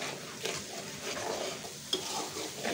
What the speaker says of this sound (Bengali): এবার মশলাটাকে খুব ভালোভাবে কষিয়ে নেব।